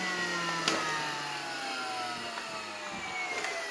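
The motor of a first fix nail gun fires up and runs with a steady mid-pitched engine drone, rising slightly in pitch, with a couple of sharp clicks over the running motor.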